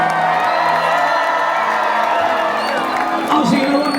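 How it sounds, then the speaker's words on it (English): A crowd of finalists' audience at an evening event cheers and whoops loudly, with shouts and clapping in a dense, sustained roar. "A big round of applause for all your finalists here this evening"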